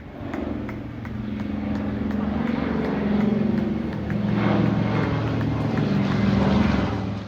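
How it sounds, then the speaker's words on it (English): A Second World War Dakota passes over the Henley Royal Regatta, a steady propeller-engine drone that swells and fades slightly at moderate distance for several seconds, with no talk. "I was treated to a flyby from a Second World War Dakota."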